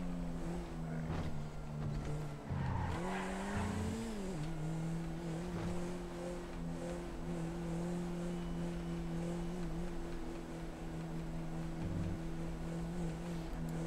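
Car engines in the GTA 5 video game during a police chase after a garbage truck: a steady droning engine hum with a brief rise and fall in pitch early on, then an even, sustained tone.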